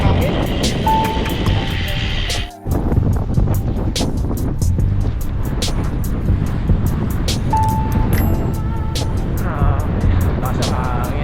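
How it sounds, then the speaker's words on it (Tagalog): Heavy wind buffets the microphone without letup while riding, a constant roaring rush with engine noise mixed underneath and a brief dip partway through. "Ang lakas ng hangin sa lubog."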